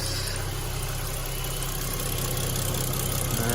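A Ford FG XR6 Turbo engine idles after an oil filter change, a steady low rumble with constant mechanical hum, heard close for the whole stretch with no talking.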